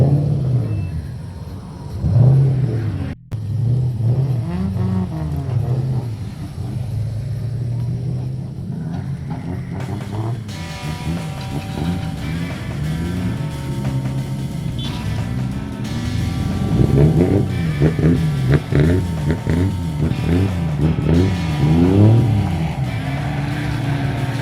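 A 48V 5000W electric pit bike, a Razor MX upgrade with a hydraulic fork, ridden at a riding event, giving a loud, close, sustained motor whine and rumble with rising and falling tones throughout.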